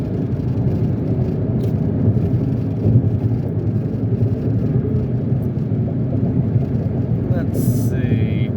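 Steady engine drone and road rumble inside a Mitsubishi Mirage at half throttle on the interstate, constant and even throughout, with a brief high chime near the end.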